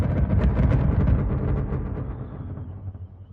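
A dense, rumbling burst of synthesized noise with crackly texture, loud at first and gradually fading like a rolling thunderclap.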